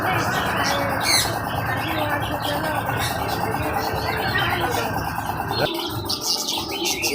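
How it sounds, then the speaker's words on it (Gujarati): Dense chirping and tweeting from many Java sparrows, a continuous busy chatter that fills the whole stretch, with a person's voice faintly underneath, at a nature park in Surat. "ઇન્ડોનેશિયાની ચકલીઓ"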